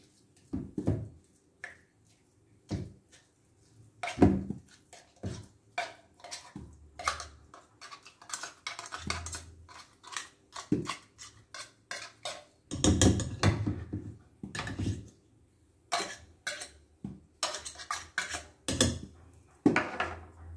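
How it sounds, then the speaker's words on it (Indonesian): A fork mashes corned beef in a bowl, producing irregular sharp clicks and scraping taps, close and fairly quiet, in uneven bursts with short pauses between them. "Kemudian ini kornetnya kita masukkan, agak pakai garpu supaya dia halus."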